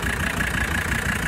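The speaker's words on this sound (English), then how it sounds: "It actually doesn't idle too bad." A 1985 Mercedes 300TD diesel engine idles with a steady, loud, continuous clatter and low rumble, close by, with no talking.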